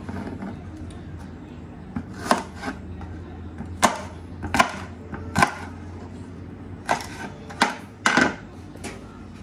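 A knife chops garlic and shallots by hand on a board in a home kitchen, giving sharp irregular knocks close by over a quiet background.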